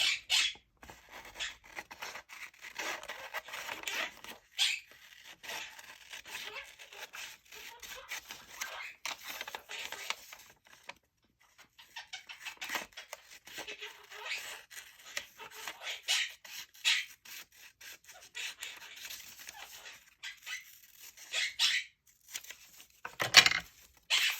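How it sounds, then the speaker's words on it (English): Scissors cut an index out of a book page for a junk journal. The close, dry snipping and rasping paper sounds come in irregular bursts, with short pauses and one sharper snip near the end. "I'm going to cut this index out and use it."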